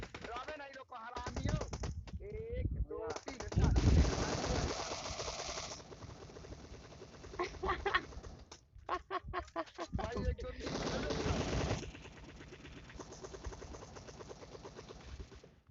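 Gunfire rattles in PUBG Mobile, with sharp bursts of shots in clusters amid game noise while voices chatter over the action.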